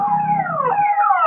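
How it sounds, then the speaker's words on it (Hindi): An ambulance siren wails through the streets of Jabalpur during lockdown, its rising and falling tone sweeping loudly and continuously with traffic noise beneath. "मैं लगातार ये एम्बुलेंसों की आवाज सुन रहा हूं।"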